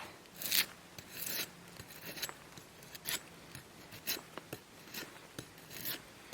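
Large knife shaving and cutting a piece of wood for a bow-drill fireboard, a close series of rasping, scraping strokes in an irregular rhythm, fairly quiet.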